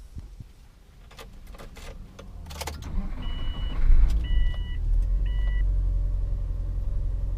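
A 2003 Subaru engine cranks after some clicks and rustling, catches with a brief flare, then settles into a smooth, steady low idle, heard up close with a few faint electronic chimes.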